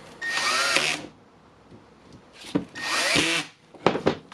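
A Makita DDF486 cordless drill running in two loud whirring bursts of about a second each, with clicks and handling knocks between and after them.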